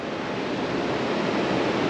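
Strong wind gusts by a river blow steadily as a dense, close rush of broadband noise for the whole stretch, with no talking.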